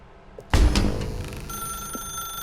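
A telephone rings in the video game The Stanley Parable, with a loud onset followed by a sustained electronic ringing tone and a steady background hum.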